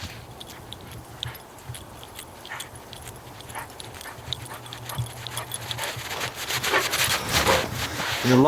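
A hunting dog lopes across snow and ice beside a frozen lake on an early-morning winter duck hunt, panting and padding steadily, the sound growing louder toward the end over outdoor background noise.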